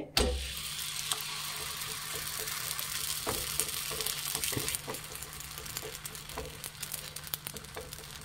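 Oil sizzling on a hot griddle (hencu) while cooking Ugadi festival dishes, a steady bright hiss running the whole time with faint scraping and stirring clicks, close and alone with no voices.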